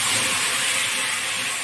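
Water from boiled gram-flour dumplings poured into a pan of fried masala, giving a loud, continuous sizzling hiss that fills the short moment close up with no pauses.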